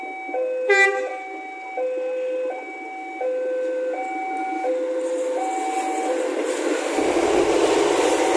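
The Jenggala passenger train departs near Mojokerto, Indonesia, moving steadily with a continuous rumble while a two-tone electronic chime repeats over it; a brief horn-like blast sounds early on, and the rumble grows toward the end.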